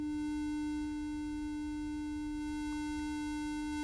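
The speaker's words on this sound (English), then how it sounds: "So the square wave is there, mixed with the sine wave." Steady synthesizer tone from a plugin, a square wave blended with a sine wave by basic wave shaping, held evenly throughout with a bright buzzy edge over the pure hum.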